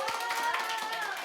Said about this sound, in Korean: 우리 태연이 축하한다고 박수 한번 주자